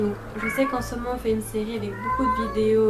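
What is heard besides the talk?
pet cat meowing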